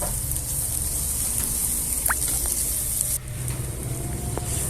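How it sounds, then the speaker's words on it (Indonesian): Shallots and garlic sautéing in hot cooking oil in a pan, a continuous steady sizzle with faint utensil taps and clinks, close and alone without talk. "Panaskan minyak goreng, tumis bawang merah dan bawang putih hingga layu."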